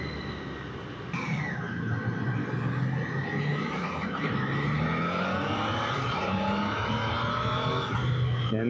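A Triumph Daytona 660 sport bike rides steadily with its engine droning loud and close, revs rising and falling in long sweeps as the rider goes through the gears, with no talk over it.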